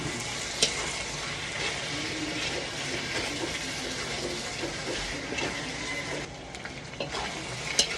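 Ingredients for pochero sauté in a pan with a continuous, close frying sizzle and stirring clatter, plus a few sharp knocks, holding steady throughout with no voices.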